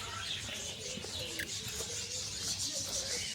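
Birds call in the back garden of a hotel on Jersey Island, where parrots are around. The calls are faint, scattered chirps and coos over a steady outdoor hiss, with no voices.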